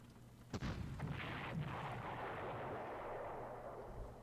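Battle in the Panzer Corps war game as infantry storm trenches, with several sharp gunfire cracks and booms over a faint, rumbling wash of distant fighting.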